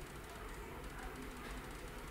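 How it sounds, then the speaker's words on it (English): A train rumbles past nearby, a loud, steady broadband roar with faint rhythmic clatter throughout, no voices over it. "What is that noise? The train."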